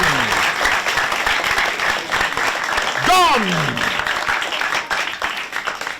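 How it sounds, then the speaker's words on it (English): A studio audience on a TV quiz show breaks into continuous applause, dense and steady across the whole stretch, with a brief whistle or cheer rising in the middle. "Oh, Cizalo is applauding the performance of John."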